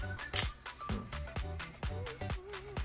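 A Canon camera with a newly replaced shutter curtain fires at a set speed of 1/40, a string of crisp mechanical shutter clicks in quick, uneven succession, close and clear with no talk.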